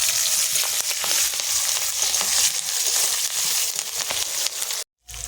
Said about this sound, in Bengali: বাদামটা একটু লাল লাল করে ভেজে নেব।